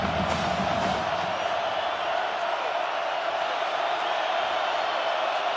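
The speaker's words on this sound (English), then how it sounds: "Crowd fully engaged" A college football stadium crowd at an Oklahoma Sooners versus West Virginia Mountaineers game roars steadily during a third down, a dense continuous wash of cheering with a few whoops in the first second.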